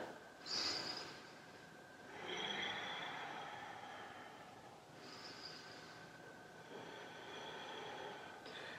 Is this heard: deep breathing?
yes